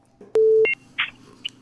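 A phone line gives a sharp electronic beep tone right after a call drops, a short steady note followed by a few brief chirps and clicks, loud and close against near silence.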